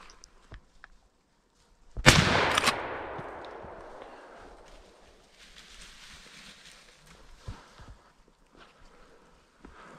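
A single sharp rifle shot at a roe deer during a wild boar drive hunt, loud and close, followed by a long rolling echo that fades over several seconds into quiet woodland.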